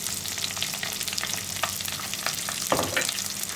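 Chopped onions frying in a pan for a Kerala roasted-coconut beef curry, a continuous close sizzle and hiss with light stirring knocks and one sharper scrape, no talking.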